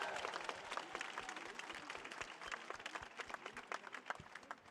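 Dense audience applause at a round-table conference session, many hands clapping at once in a sustained, evenly spread patter that stays moderately loud throughout with no voices on top.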